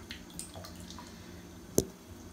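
Water in a bathtub: one crisp, distinct drip stands out over a faint, steady trickle, close and quiet.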